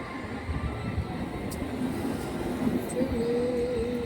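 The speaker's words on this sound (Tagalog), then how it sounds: "Second train, everyone." Train noise on a UK rail line, heard as a steady, loud rumble from inside the carriage with a faint rising whine toward the end and brief squeaks, no talking.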